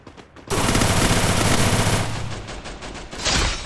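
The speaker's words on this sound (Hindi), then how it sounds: "चिमकांडी को हेडशॉट मार दिया।" Rapid automatic gunfire bursts from the Free Fire mobile game, loud and close, a sustained volley for about two seconds followed by a quieter tail and another short burst, with no talking.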